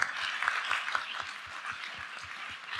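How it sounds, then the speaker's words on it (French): Audience applause at an anniversary testimonial event, a steady wash of many hands clapping at moderate level, with dense overlapping claps throughout and no voices on top. "Je crois qu'on peut vous applaudir."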